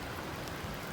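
Steady, even hiss of rain falling on a hiking trail along the West Highland Way in the Scottish mountains, a brief unbroken wash with no voices.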